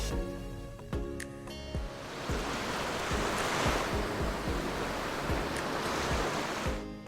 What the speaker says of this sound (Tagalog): ramdam mo ang malakas na hangin at ang paghampas ng alon